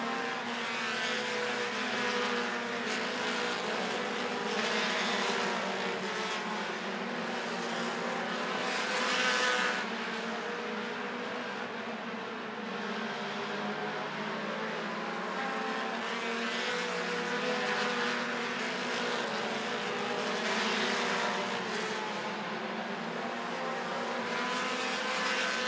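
Race cars circle a short-track oval at Rockford Speedway in an American Short Tracker feature, their engines roaring steadily and continuously, with surges as the pack passes, loud and sustained the whole time.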